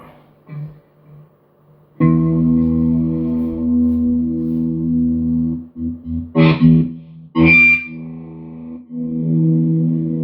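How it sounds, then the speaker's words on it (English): Distorted electric guitar with Seymour Duncan pickups, chords ringing out loud and sustained, broken by a few short choppy stabs and brief pauses before the held tone returns. "I'm gonna go to distortion now."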